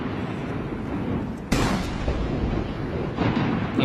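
Ceremonial cannons fire at a Chinese military parade, part of an 80-gun salute, a sudden heavy boom breaking into a dense roaring rumble that stays loud, with another burst near the end.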